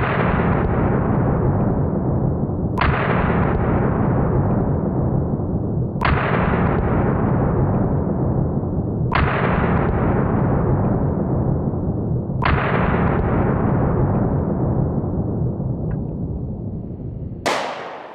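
A Smith & Wesson M&P 2.0 pistol with a 4-inch barrel fires six sharp, loud shots spaced roughly three seconds apart, each report ringing into a long decaying echo that fills the gaps, with a final shot at the end.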